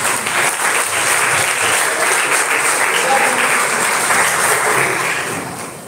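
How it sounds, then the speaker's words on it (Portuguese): A church congregation applauds together in a sustained burst of dense, even clapping that fills the room and fades slightly at the end. "Com palmas para Jesus, vamos receber o ministro Francisco."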